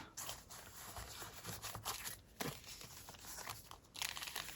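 Paper envelope being folded over and pressed down by hand while crafting, a steady close crinkling and crumpling with brief rustling tears and scrapes throughout, no talking.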